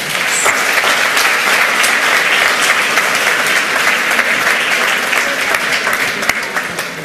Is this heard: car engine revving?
no